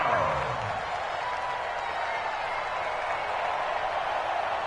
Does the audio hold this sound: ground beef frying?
no